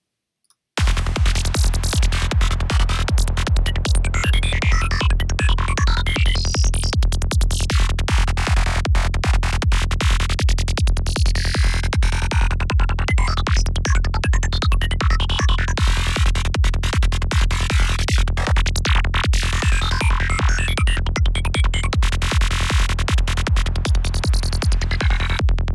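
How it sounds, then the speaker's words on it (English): A Darkpsy FM synth lead built in Serum plays alone, a loud, dense, buzzing line with fast rhythmic pulsing over a steady low bass for the whole stretch, its bright upper tones sweeping and shifting throughout. "We're just going to look at how to make that typical Darkpsy noise, sort of FM lead type thing"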